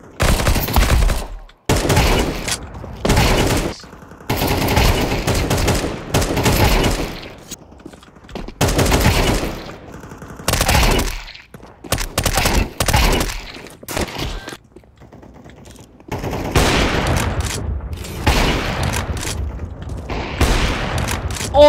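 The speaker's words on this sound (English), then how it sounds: "Why is he shooting me?" Rapid bursts of gunfire in the video game Counter-Strike (CS:GO2), loud, close automatic volleys in repeated clusters separated by short silences, no speech over them.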